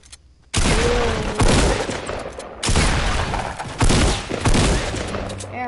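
Hunting rifle gunfire in a video game: several loud, close shots, each with a long echoing tail, rings out in bursts with no talk.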